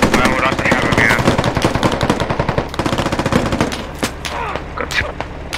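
Rapid automatic gunfire in the video game Squad on the Gorodok map, loud and close, with dense bursts of shots that thin into scattered single shots toward the end.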